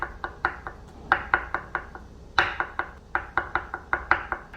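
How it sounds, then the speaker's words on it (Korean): Knife julienning thin strips from rolled, folded egg yolk sheets on a cutting board for chiljeolpan, a steady run of crisp, close taps in quick bursts with a few brief pauses. "반절 접어서 돌돌돌 만 후에 얇게 채를 썰어 볼게요"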